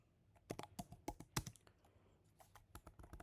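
Keys clack on a computer keyboard as a command is typed into a terminal, a quick uneven run of close, crisp taps with a short pause before a few final strokes, no voices.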